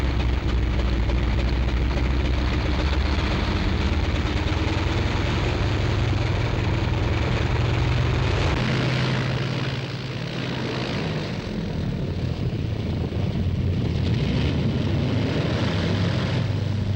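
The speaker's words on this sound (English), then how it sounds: "He was planning to fly the bomber this afternoon" A WWII bomber drones overhead on its propeller engines during a test flight, a loud, steady, dense roar with a shifting low hum that holds throughout with no talk.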